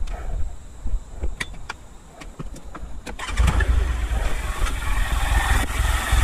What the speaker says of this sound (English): I'm just gonna go ahead and turn the engine